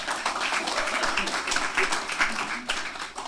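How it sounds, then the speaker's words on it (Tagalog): Church congregation applauding during a sermon, a dense, continuous patter of many hands clapping together at moderate loudness for a few seconds. "Isang malakas na palakpak kay Lord."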